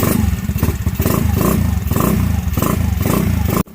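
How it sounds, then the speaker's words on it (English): A GY6 171cc big-bore scooter engine with a troublesome carburetor runs loud and close, revving in steady pulsing surges for several seconds before cutting off abruptly. "gonna start the bike up"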